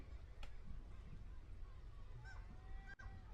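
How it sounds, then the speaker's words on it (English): Seagulls calling faintly in the distance, a few short honking cries against a steady low background rumble. "You can hear the seagulls."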